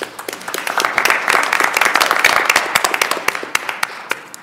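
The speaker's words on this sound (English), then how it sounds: "how about a nice round of applause for our two teachers?" An audience applauds two teachers at a board of education meeting, a burst of dense, near clapping with distinct sharp claps standing out, sustained throughout.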